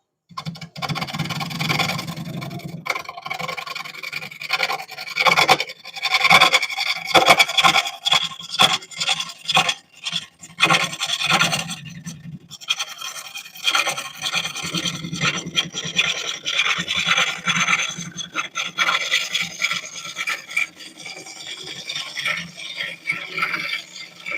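A woodturning gouge cuts into a cracked wooden bowl spinning on a lathe, giving rough rasping, scraping bursts that rise and fall in uneven passes, close and loud.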